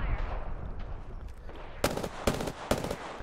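Three sharp, evenly spaced gunshots ring out in a video game, loud and close, over a busy low background rumble.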